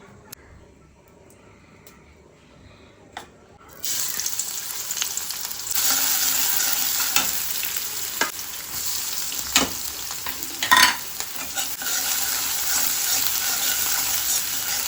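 Shrimp cooks in a pan with Malabar spinach greens, tomato, green chilli and onion, giving a steady close sizzle and fry that starts abruptly and carries on with occasional stirring clatter.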